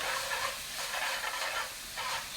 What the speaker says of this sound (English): Can you hear that sizzling now?